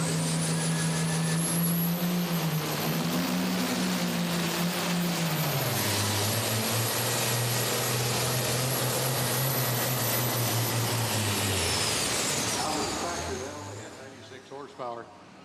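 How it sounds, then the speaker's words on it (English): The Outlaw Binder pulling tractor roars through a pull at a Tomah, Wisconsin tractor-pulling event, a loud, sustained engine howl whose pitch rises and falls and then fades near the end, with an announcer talking over it. "Green flag is out right now as we bring you Bob Freiberger out of Cuba City, Wisconsin, the Outlaw Binder."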